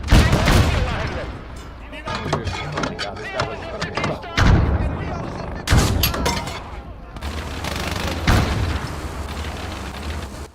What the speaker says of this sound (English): Ne ampuu ihan lähelle!